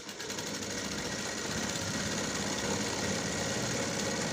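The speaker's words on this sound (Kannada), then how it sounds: "ಈಗ ಲೈನಿಂಗನ್ನು ಮೇನ್ ಪೀಸ್ಗೆ ಸುತ್ತಲೂ ಒಂದು ಹೊಲಿಗೆಯನ್ನು ಹಾಕ್ತಾ ಹೋಗೋಣ." A sewing machine runs steadily, stitching a lining to a sleeve with a constant rapid mechanical whir and chatter, close up and uninterrupted.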